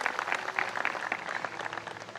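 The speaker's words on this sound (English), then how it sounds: "So a round of applause for them, please." Audience applause for the sponsors at a Move with MADD ceremony, scattered claps heard at a distance and fairly quiet, continuing briefly without talk.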